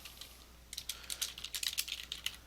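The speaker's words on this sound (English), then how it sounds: "Oh, I'm having trouble typing." Rapid keyboard typing begins after a brief quiet moment, a dense flurry of light clicking keystrokes at close range, steady and uneven in rhythm.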